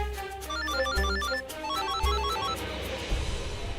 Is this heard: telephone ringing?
yes